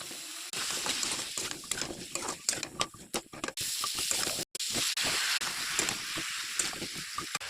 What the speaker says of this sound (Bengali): মশলা ভাজা হয়ে গেছে, সবজি দিয়ে দেব।